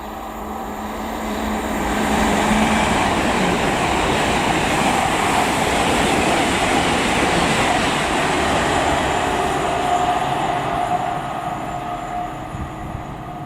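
A nine-coach London passenger train rumbles along the rails, a dense continuous roar of wheels and carriage noise that swells after a couple of seconds and holds steady, heard from close by with no talking.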